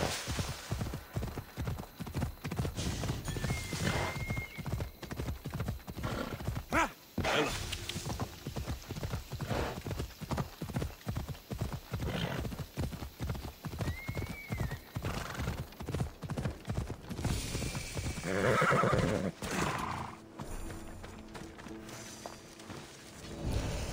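A horse gallops through the Kraneion Plains of Argolis in Assassin's Creed Odyssey, steady rapid hoofbeats running for about twenty seconds with a few whinnies and neighs, the pace easing near the end.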